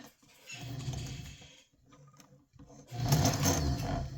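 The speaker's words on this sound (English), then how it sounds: "hold your 2 pieces of elastic together and start sewing" A sewing machine stitches two pieces of elastic together for a scrunchie, running in two close bursts of steady mechanical whirring with a brief pause and a quieter stretch between them.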